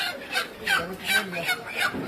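Desi chickens with crests call out in a run of about five repeated, rhythmic bursts, close by, with soft background noise between the calls.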